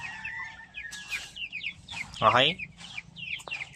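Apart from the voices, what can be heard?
chicks (young chickens) peeping in backyard coop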